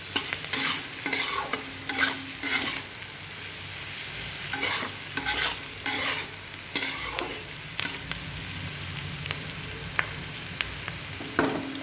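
Vegetables salted and stirred in a frying pan for pasta, with repeated scraping stir strokes in bursts over a constant loud sizzle, close and without voices.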